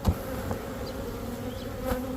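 Honeybees buzz steadily around an open beehive, a close, continuous hum with a few louder passes near the start.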